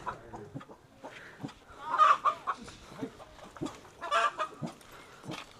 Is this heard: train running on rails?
no